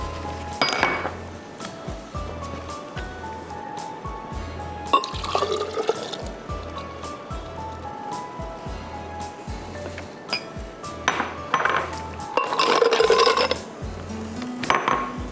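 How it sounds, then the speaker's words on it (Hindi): Ice cubes go into a mint margarita made with lemon juice and mint leaves, clinking and sloshing in bursts against the container, with liquid pouring and a steady low mechanical hum underneath. "2 कप डाल दीजिए आइस क्यूब्स।"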